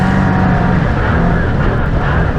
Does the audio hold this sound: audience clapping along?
no